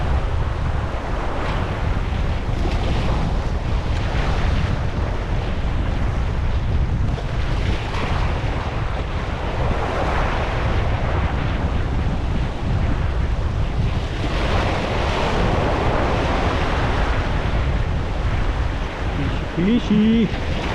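Sea waves wash steadily against a rocky shore at low tide, a continuous loud surging rush with gusting wind noise on the microphone and no break across the stretch.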